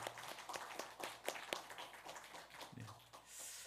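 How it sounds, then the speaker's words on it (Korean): A church congregation claps briefly in welcome for a newly registered member, scattered sharp claps heard faint and distant over quiet room noise. "우리 그 자리에서 잠깐 박수 한번 하겠습니다."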